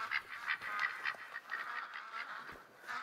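Ducks call within theHunter: Call of the Wild, a flock giving rapid honking quacks that overlap in a steady nasal chatter, moderately close and fairly faint, with no voices.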